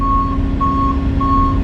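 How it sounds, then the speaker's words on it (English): A dump truck reversing at a construction site while being loaded with dirt and rocks, three evenly spaced loud backup beeps over a steady diesel engine rumble. "both trucks are here now, getting the dirt loaded out"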